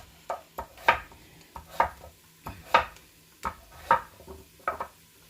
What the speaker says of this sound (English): I'm just going to start adding my butternut squash